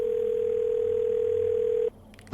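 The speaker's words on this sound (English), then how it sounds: "Answer the phone." A telephone call tone in a horror gas station game holds one loud, steady note for about two seconds, then stops abruptly and is followed by a brief click.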